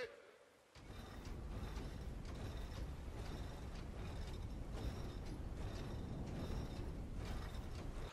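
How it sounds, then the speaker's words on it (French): A stone door mechanism in the God of War video game grinds and creaks into motion after a brief quiet start, then keeps up a steady, loud mechanical rumble with repeated ratcheting creaks to the end. "vous aurez tout simplement activé le mécanisme pour ouvrir la porte"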